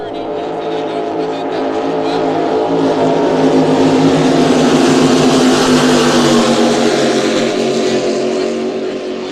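A 2,600 horsepower offshore superboat racing at Lake Macquarie roars past at about 115 mph and 7,000 RPM, a loud sustained engine drone swelling and fading as it goes by.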